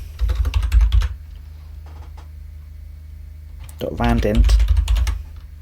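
Typing code on a computer keyboard during a Python programming lesson: two quick bursts of clacking keystrokes, near and clear, separated by a quiet pause, with someone speaking between them.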